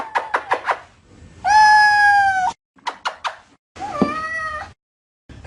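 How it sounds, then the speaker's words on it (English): A cat yowls and caterwauls in long, wavering, yodel-like cries broken by short sharp meows, loud and close, in an alternating pattern of chirps and drawn-out wails with no talk. "The first phase of cat yodeling is the annoying phase."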